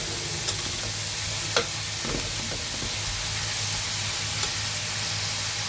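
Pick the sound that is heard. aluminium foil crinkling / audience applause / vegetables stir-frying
vegetables stir-frying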